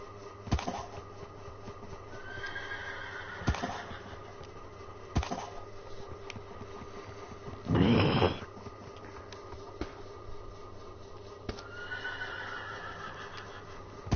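A horse in a racing video game whinnies repeatedly amid soft hoof clip-clops and a steady background hum, with one loud, harsh snort-like burst midway and further neighs spaced across the stretch.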